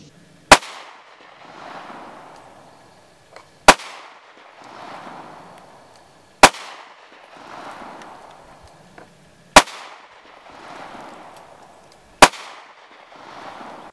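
A Taurus GX4 XL 9mm pistol fires five single sharp shots at even intervals of roughly three seconds, each crack loud and close, followed by a brief ringing echo outdoors.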